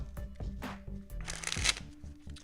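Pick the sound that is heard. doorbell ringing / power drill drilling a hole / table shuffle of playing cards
table shuffle of playing cards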